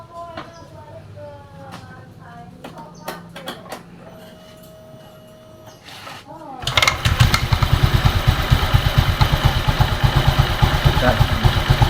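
A motorcycle with a worn bearing in its CVT idles with scattered clicks and rattles, then is revved hard, its engine roaring loud and close with a gritty mechanical whine from the transmission.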